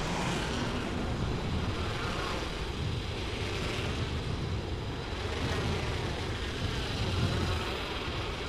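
A steady rushing, windy whoosh of riding a zipline in Apex Legends Mobile, continuous and fairly loud with gentle swells, no voices over it.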